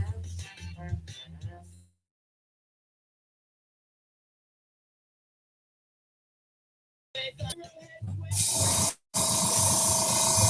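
An airbrush or spray gun hisses steadily and loudly near the end while painting a bluegill swimbait fishing lure, with a brief break in the spray, after earlier speech and a long silence.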